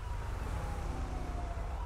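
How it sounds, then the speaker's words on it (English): Police sirens wail steadily in a video game patrol scene, a continuous mid-level wailing tone heard at moderate distance over low rumbling background noise. "Okay, now I hear the sirens again."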